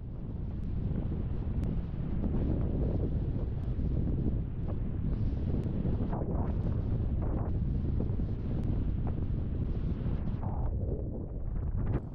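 Strong wind roars continuously at a beach during a windsurfing session, a loud buffeting rush battering the microphone with gusts throughout and no voices.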